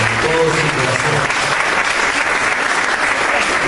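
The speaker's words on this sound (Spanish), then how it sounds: "Un aplauso al Señor con todo su corazón." A church congregation claps together for the Lord in a thick, continuous wash of applause that holds level throughout, with a brief low voice or musical tone at the very beginning.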